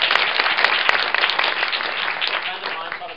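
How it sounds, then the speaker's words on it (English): Audience applauding for a film screening guest, an energetic crowd clap with sharp individual hits that gradually eases off, with some voice mixed in. "Round of applause for the objective."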